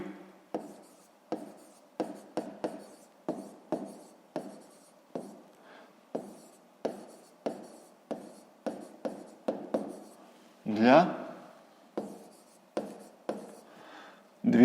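Pen writing on paper during a fifth-grade maths exercise, a steady series of close, faint scratchy strokes and taps in irregular rhythm, with a brief louder rustle partway through and no talk.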